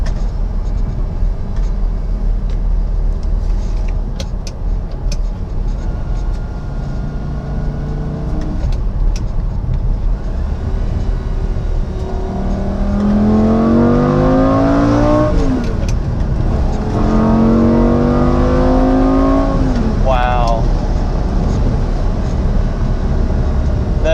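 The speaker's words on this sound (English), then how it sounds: "You cannot beat the sound of a V10 Lamborghini, and it sounds amazing just with the stock exhaust on this car." A Lamborghini Gallardo V10 with its stock exhaust and gated 6-speed manual accelerating close by, the engine note rising in pitch through two or three strong pulls with a brief drop between them.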